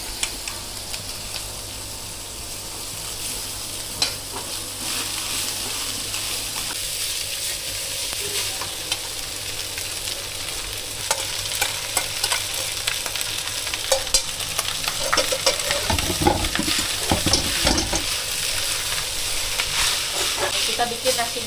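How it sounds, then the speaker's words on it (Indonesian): Rice being stir-fried in a pan with fish sauce and soy sauce for a Singapore-style fried rice, a steady close sizzle with scraping, clattering stirs that grow louder and busier toward the end, no talk. "Kita bikin nasi goreng tanpa kecap ya, seperti kayak nasi goreng Singapura gitu"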